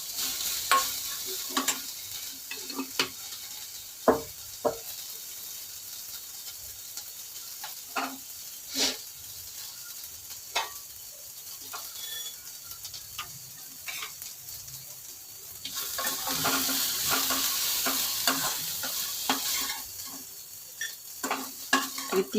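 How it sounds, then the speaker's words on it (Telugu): Brinjal and chillies fry in oil in a pan, a quiet continuous sizzle broken by scattered scrapes and taps of a spoon stirring against the metal, with a brief louder sizzling stretch near the end. "అంటే మనం ఇట్లా వేయించుతున్నాం కదా"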